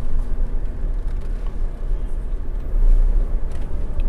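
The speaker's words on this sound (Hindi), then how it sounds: "एक बार हम गाड़ी का टर्निंग रेडियस चेक कर लेते हैं, यहाँ पर हम टर्न करके देखते हैं गाड़ी को" A Tata Nexon turning slowly, a low steady engine and road rumble heard from inside the cabin, continuous and fairly loud, without speech.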